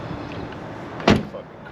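Door of a 1980 Mercedes-Benz 300SD with 10,400 miles shutting once, a single solid, close thunk against a quiet interior background.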